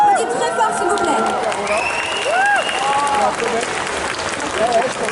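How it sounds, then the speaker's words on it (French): Crowd applause and cheers at a cosplay contest and catwalk, sustained clapping with voices talking and calling out over it. "On applaudit très fort, s'il vous plaît"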